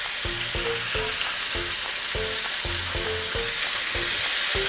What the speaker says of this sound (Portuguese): Agora eu vou escorrer a nossa massa e colocar aqui no molho.